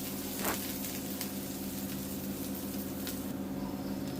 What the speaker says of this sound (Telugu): ఉల్లిపాయలతో పాటు కొద్దిగా కరివేపాకు కూడా వేసేసుకొని వేయించుకోవాలి